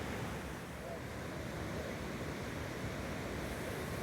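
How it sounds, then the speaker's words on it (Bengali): Roaring water at Jonha Falls, a waterfall, fills the scene as a steady, dense broadband rush with no breaks, loud and continuous throughout. "এই জায়গায় দাঁড়িয়ে এই ফলস দেখা অসম্ভব সুন্দর এক অভিজ্ঞতা। এত আওয়াজ, তার মধ্যে জল।"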